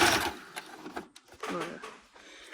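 Sewing machine stitching across a thick section of fabric, its motor whirring in short loud runs that slow and pause as the material is pulled through.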